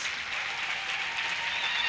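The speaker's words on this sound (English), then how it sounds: "let's give a big round of applause for our second group of educare" Graduation ceremony crowd at a TVET college in Bloemfontein applauds a group of educare students, a steady hiss of many hands clapping from a distance, continuous and alone.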